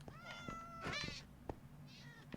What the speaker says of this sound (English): You're such a bad cat.